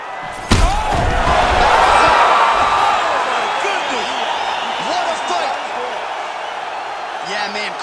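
A video-game crowd at an EA Sports UFC 4 fight roars and cheers loudly after a sharp impact thud, the noise swelling then slowly fading while faint whistles ring out.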